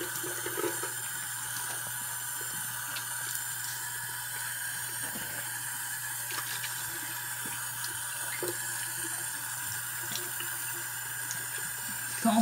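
Water running steadily from a tap into a sink while a washed face is rinsed, a constant close hiss with faint splashes throughout.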